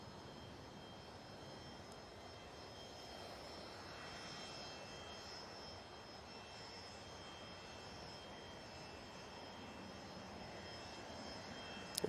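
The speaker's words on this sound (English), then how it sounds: "we'll stay on this PC24 going to Jersey" A Pilatus PC-24 business jet bound for Jersey at Manchester Airport makes a faint, distant, steady jet engine hiss and hum with a thin high whine, ending in a brief sharp knock.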